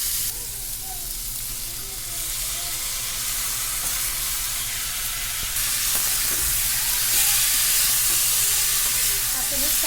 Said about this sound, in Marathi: आपण हे चांगले परतून घेऊ